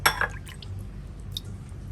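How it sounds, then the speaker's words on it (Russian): A spoonful of water drips and splashes into a bread sourdough starter, a brief wet patter at the start followed by faint quiet. "Теперь добавляем по ложечке воды."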